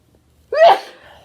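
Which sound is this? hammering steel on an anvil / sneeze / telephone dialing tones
sneeze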